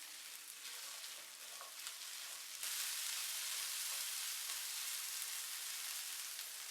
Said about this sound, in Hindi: इसको सिर्फ 1 मिनट के लिए फ्राई करेंगे